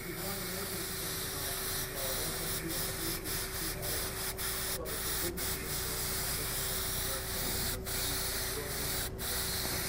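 An airbrush spraying paint onto a black T-shirt, a steady continuous hiss lasting the whole stretch with brief breaks in the spray, close and even in level, no talking.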